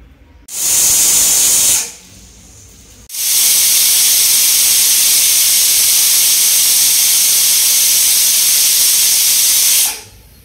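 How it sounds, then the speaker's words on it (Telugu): A pressure cooker whistles loudly on the stove while cooking coconut milk pulao, with a short hissing burst of steam followed by a pause, then a long sustained shrill whistle lasting about seven seconds before it stops. "కుక్కర్ మూత పెట్టి విజిల్ పెట్టి ఐ ఫ్లేమ్లో ఒక రెండు విజిల్స్ వస్తే సరిపోతుంది"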